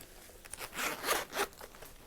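A zipper runs closed around the cover of a 2024 Sterling Ink Common Planner, a quick close rasping pull lasting about a second with a couple of short scrapes before it, alone with no talk.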